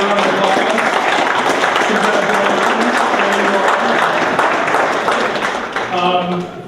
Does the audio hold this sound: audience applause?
yes